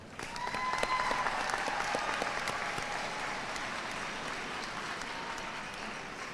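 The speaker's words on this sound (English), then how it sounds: "Let's give all of them a round of applause." A crowd claps at a high school commencement ceremony, applause swelling quickly and then holding steady as a dense, continuous patter from many hands across the venue.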